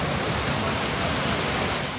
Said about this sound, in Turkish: Yağmura hazırlıksız yakalanan vatandaşlar da yağmurdan nasibini aldı.